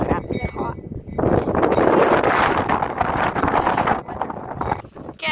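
Strong wind blowing outdoors on a very hot day, buffeting the microphone in a loud, steady rush of roaring noise with gusty swells and dips.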